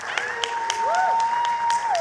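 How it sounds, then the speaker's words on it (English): Conference audience applauds a debut author's literary award at a Grenada cultural and creative industries event, a steady crowd clapping throughout, with a sustained tone from a sound system sweeping across it. "That deserves a round of applause."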